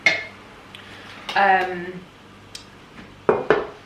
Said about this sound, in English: I'm swapping pans because this is too small.